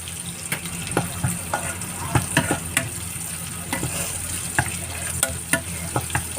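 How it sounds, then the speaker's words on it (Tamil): Garlic sautéing in leftover fish-frying oil for a fish pickle, a steady close sizzle with scattered crackles and pops and occasional stirring scrapes, no talking. "வெள்ளை பூண்டு நல்லா வதங்கட்டும் அந்த ஆயிலே போட்டுக்கிறோம்"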